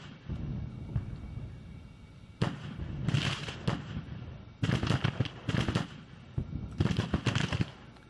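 Musket and cannon fire crackles in a Grand Tactician Civil War battle at Glorieta Pass, with repeated irregular volleys of sharp, dense pops in several bursts over low battlefield rumble.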